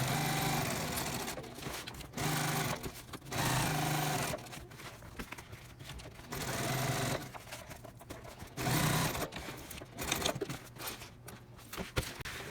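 A sewing machine stitches a pocket onto a tote bag panel in rapid whirring bursts of a few seconds each, separated by short pauses, close and clear with no talking.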